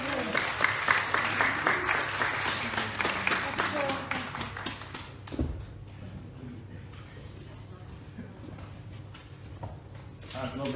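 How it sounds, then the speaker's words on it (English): Congregation clapping in a church during a Sunday service, a dense burst of applause for a child that fades after about five seconds into scattered claps and quiet room noise with a voice speaking. "Benjamin, you'll get a clap as well because you've done really well"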